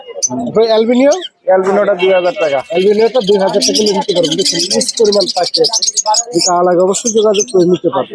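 Caged birds, including cockatiels, chirp and call at the Mirpur 13 Buttola open-air bird market. Their high twitters sit under a man's loud, close voice, which dominates throughout.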